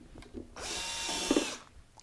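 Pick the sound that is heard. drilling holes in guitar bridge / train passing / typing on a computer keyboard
drilling holes in guitar bridge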